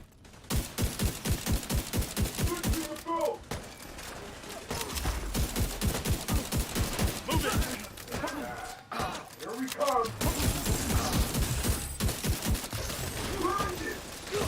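Blind-fire gunfire in The Division 2 video game: rapid bursts of shots crackle in quick repeated volleys with short pauses between, loud and busy throughout, with a voice talking in the background.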